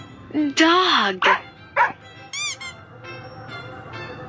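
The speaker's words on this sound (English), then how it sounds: "D-O-G. Dog." A cartoon dog gives a few short, loud barks and yips, close and clear, with quieter voices and music faintly underneath.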